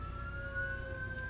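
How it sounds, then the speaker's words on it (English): A siren wails steadily outside, sustained tones heard through a room at a moderate distance under a low background rumble. "We do have a lovely siren going on outside"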